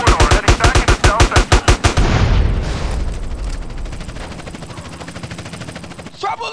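Rapid bursts of video game gunfire in GTA San Andreas, with a dozen sharp, evenly spaced shots that end in a heavy boom and then a long rumbling decay.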